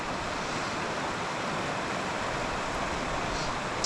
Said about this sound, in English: the water's moving very fast in that section